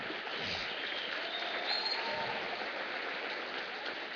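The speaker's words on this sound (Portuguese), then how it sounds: "Pode aplaudir." A church congregation at a Sunday celebration service applauds. The clapping is distant, dense and even, a soft wash of sound that holds steady for several seconds.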